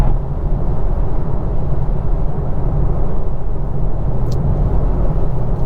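A 2021 BMW M4 cruising on the road, heard as a loud, steady low engine and road rumble that stays constant throughout with no speech.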